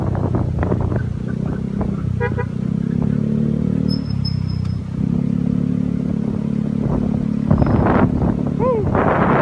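Yamaha Mio Gear 125 scooter riding through Metro Manila streets, a steady low engine drone with wind rumble running throughout, a voice talking over it and a brief horn-like tone near the end.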